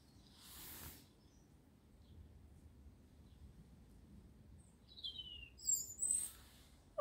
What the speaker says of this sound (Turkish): Aa, benim kuşum.